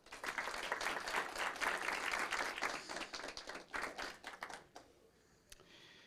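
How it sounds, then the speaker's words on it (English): Audience applause at a city council meeting, steady close clapping from a modest crowd that thins out toward the end, with no voices over it. "Please join me in giving him a round of applause."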